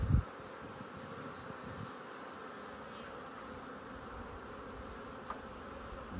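Honeybees hum in a steady, fairly faint drone from an open hive under inspection during requeening, with a brief knock at the start and no talking.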